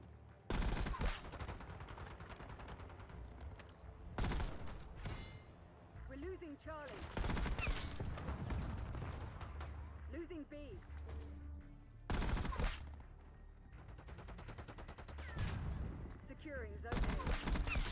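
Rapid automatic gunfire from an AMES 85 in the Black Ops 6 video game, dense bursts of shots with game effects and a voice talking under the firing, the loudest volleys breaking out near the start, middle and end.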